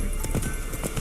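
Roach, the horse in The Witcher 3: Wild Hunt, gallops in a brief burst of quick hoofbeats, several close thuds in about a second.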